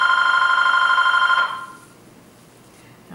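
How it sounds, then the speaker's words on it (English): An indoor telephone rings with a steady electronic trill that holds for about a second and a half, then cuts off, leaving near silence. "it's too interruptive to stop and answer the phone"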